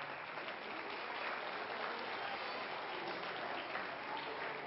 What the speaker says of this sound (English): If you like it, you can clap.